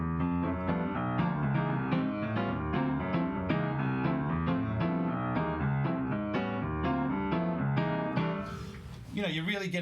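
Piano playing a bebop-style chord progression in the middle register with no guitar, dense rhythmic chords throughout, ending in a brief burst of noise near the close.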